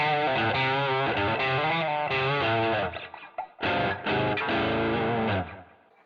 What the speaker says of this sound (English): Bit of drive.